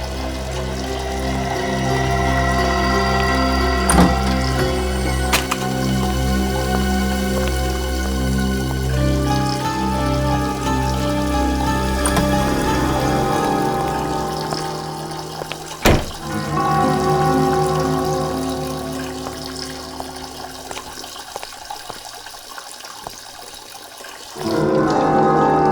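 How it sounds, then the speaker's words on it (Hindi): Water runs in a basement in a steady, continuous flow, with a few sharp thunks along the way and a sudden louder burst at the very end. "ये पानी की आवाज तो बेसमेंट में से आ रही है।"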